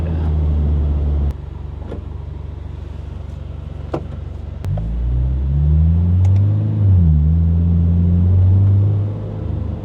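A Toyota GR86 in race mode idles with a low rumble, then pulls away and accelerates, the engine note climbing and dropping through gear changes with a few clicks and knocks from inside the cabin.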